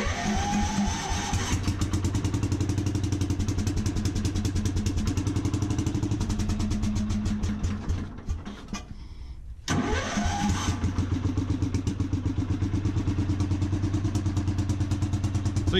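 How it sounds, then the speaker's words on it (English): A tractor engine cranks repeatedly with rapid, rhythmic chugging, stalls briefly into near silence, then cranks again and catches into a loud, steady running rumble, close to the microphone. "Come on now. Don't embarrass me, tractor."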